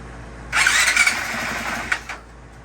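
A 2020 Honda CRF450X dirt bike's electric starter whirs loudly, cranking the engine over for about one and a half seconds, up close, before cutting off with a brief knock.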